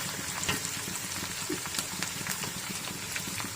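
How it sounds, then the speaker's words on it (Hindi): Goat meat, 1.5 kg, fries in a pot with garlic and ginger for a chicken biryani, giving a steady, dense sizzle with light crackles and spits running through the whole stretch at close range. "इसे अच्छे से हम फ्राई कर लेते हैं ताकि ये रेड से वाइट की तरफ आ जाए।"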